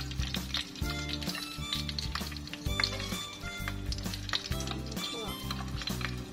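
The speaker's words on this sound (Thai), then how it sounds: "ต้อง เป็น หมู ย่าง มาริโกจ ัง" Pork grilling with garlic, a steady loud sizzle and crackle of frying meat with continuous spattering, plus a low background hum.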